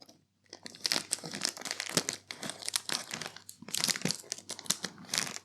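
A bag of Tesco salted caramel party mix being pulled open, with loud, close plastic crinkling and crackling in repeated bursts after a brief pause at the start.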